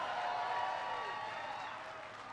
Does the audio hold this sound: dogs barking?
no